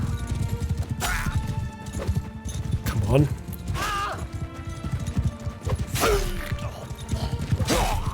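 Cavalry horses galloping across open fields in the medieval combat game Mount & Blade II: Bannerlord, a dense rumble of hoofbeats with occasional whinnies and battle clatter, loud and continuous beneath a man's brief speech.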